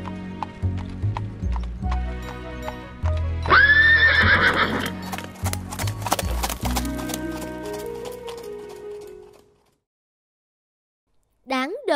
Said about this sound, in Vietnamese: Nó đúng là một con ngựa kiên cường.